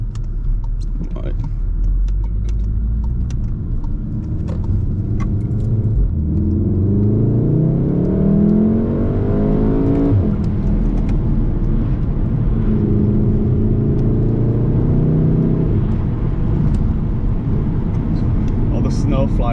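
A VW Golf R MK7 drives on a snowy road, its engine rising and falling through gear changes under steady tyre and road rumble, with a voice talking over it.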